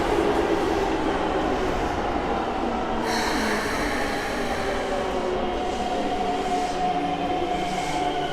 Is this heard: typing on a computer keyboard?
no